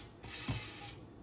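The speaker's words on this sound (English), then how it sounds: "spray your crock pot down" Cooking spray from an aerosol can misting into a crock pot in one steady hiss lasting about three quarters of a second, close and fairly loud, with a faint bump near the start.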